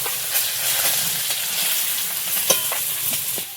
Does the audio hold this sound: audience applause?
no